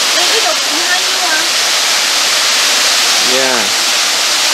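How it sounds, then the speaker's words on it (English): A waterfall on the Kbal Spean river near Siem Reap roars as loud, steady, close rushing water throughout, with a voice or two speaking briefly over the noise. "That's the waterfall there."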